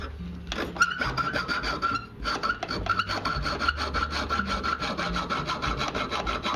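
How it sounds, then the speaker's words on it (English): A hand file rasps back and forth across a small catch piece, shaping it flat and rounding it off, in a series of close, rough strokes with a brief pause between the early passes. "then just file flats and round them off"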